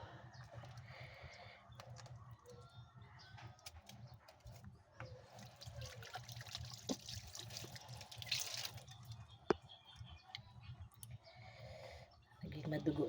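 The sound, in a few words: water running while washing milkfish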